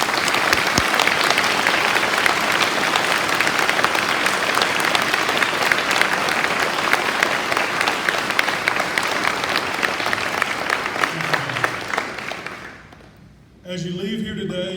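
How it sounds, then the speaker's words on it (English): A Veterans Day program audience gives the veterans a long, loud round of applause, dense and steady for about twelve seconds before it fades and a voice begins speaking. "Ladies and gentlemen, please let's give them another round of applause"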